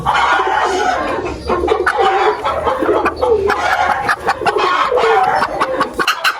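Several laying hens cluck repeatedly in short bursts nearby, a busy, continuous poultry chatter with a low background hum.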